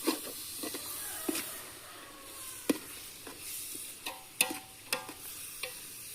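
Vegetable biryani masala being stirred as it fries in a large cooking pot, a steady sizzle and hiss broken by scattered scraping knocks of the ladle at an uneven pace.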